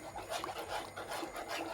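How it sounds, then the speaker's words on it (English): Thick cornmeal porridge being stirred in a pot, a continuous close rasping scrape of the spoon against the pot in steady repeated strokes. "you keep on stirring it like this"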